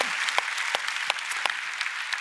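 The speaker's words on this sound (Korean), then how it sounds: "우리 하나님께 영광의 박수를 올려드립니다." Church congregation applauding during a Korean Sunday worship service, a steady wash of clapping with a few sharper individual claps, moderately loud and continuous without speech.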